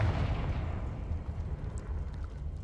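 A deep, rumbling Confringo spell blast from the Hogwarts Legacy video game, a booming fiery burst that rolls on loudly and steadily before fading.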